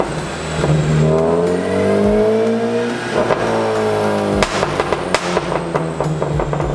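A 2014 Honda Civic Si engine revs up in repeated rising pulls, dropping back between them, close and loud with sharp bursts toward the end.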